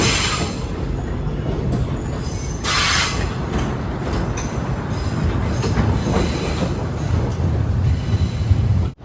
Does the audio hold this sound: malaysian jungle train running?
yes